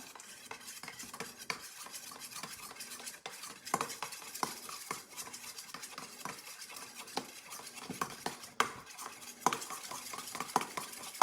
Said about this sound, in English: We got our food coloring, and just mix that up very well.